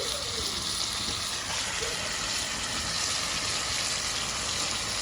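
Fish frying in a pan over a wood-fired stove makes a continuous, even hiss that stays at a constant level throughout, with no voices.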